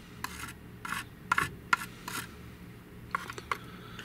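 Sanding of dried putty on a Nerf Hammershot blaster being modified for LARP, heard as short, close, raspy strokes in irregular bursts with quiet pauses between them, and no voices.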